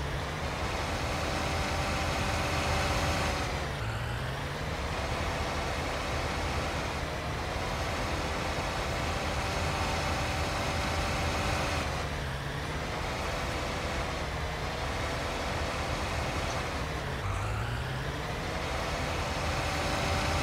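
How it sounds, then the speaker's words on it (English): A tractor engine in Farming Simulator 19 drones loud and steady throughout, its pitch sliding up and down every few seconds as the throttle changes, with no talk. "Right, we'll give that a nudge with the tractor."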